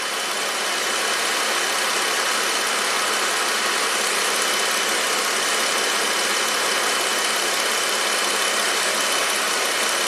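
A Jeep Pentastar V6 idles with a blown head gasket, producing a steady even hum and hiss that stays level and continuous from start to finish, with no voices.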